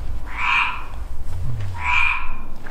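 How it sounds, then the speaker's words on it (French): Toads croak near water at an abandoned luxury estate, two distinct loud bursts about one and a half seconds apart over a low background rumble. "Depuis tout à l'heure, on entend des crapauds."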